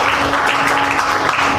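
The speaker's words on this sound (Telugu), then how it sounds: "గట్టిగా చప్పట్లు కొట్టండి." A church congregation at a Gospel AG church service in Nellore claps loudly, producing a dense, steady wash of applause that holds evenly throughout, with no voices standing out.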